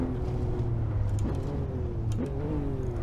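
A race car in Assetto Corsa tackles the Pikes Peak hill climb, its engine droning close and loud with rising revs and a couple of quick gear-change dips, no voices over it.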